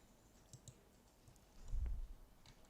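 Faint, sparse mouse clicks on a computer running CypCut laser cutting software, a few soft separate taps with a slightly louder cluster near the end, alone in a quiet room.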